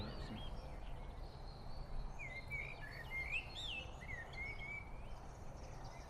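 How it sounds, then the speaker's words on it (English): Wild birds sing outdoors in a short run of thin, high chirping phrases over a steady insect buzz and low background noise, faint and somewhat distant, with no one talking. "Nice bird song here."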